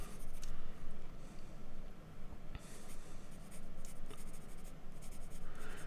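A graphite pencil scratches steadily across drawing paper in soft, continuous strokes with brief pauses, close and fairly quiet, while misty trees and a shoreline are sketched in a mountains-in-the-mist landscape.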